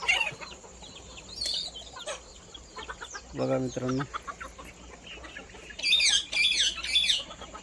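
Native village chickens on a farm with a small shed and a large outdoor compound, clucking in short bursts near and far, including a loud close flurry, while someone speaks briefly.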